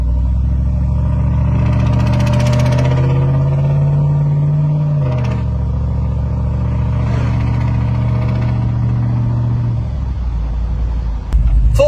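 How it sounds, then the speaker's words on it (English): Part-throttle acceleration from a cammed 6.0 Chevy Silverado with manifolds and a Speedy Sport muffler, a loud, close, lumpy exhaust rumble climbing steadily in pitch, then easing off near the end. "Part throttle acceleration."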